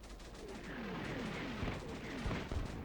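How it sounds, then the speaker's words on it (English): Mortar fire in the video game Combat Mission Shock Force 2, a steady rumbling barrage of distant thuds and booms with a few sharper, closer blasts near the end. "And I think we're just starting to get the mortars in."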